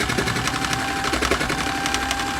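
A Sew Cool toy sewing machine stitches steadily in a fast, rattling run of needle strokes, close and fairly loud with no talking over it.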